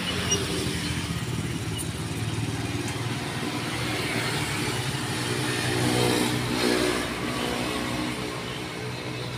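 Traffic streams along a main city road in Tegal, with car and motorbike engines passing and accelerating nearby in a continuous moderate roar that swells and fades.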